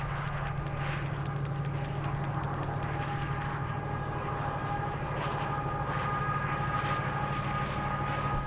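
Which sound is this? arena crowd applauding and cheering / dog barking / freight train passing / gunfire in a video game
freight train passing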